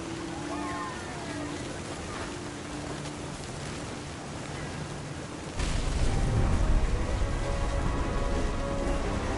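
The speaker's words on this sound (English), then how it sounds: "The thunder sounded much too close and full of angry power." Rainfall in the video game What Remains of Edith Finch, a dense steady patter of drops that thickens into a heavier, fuller downpour partway through, with a low rumble swelling underneath.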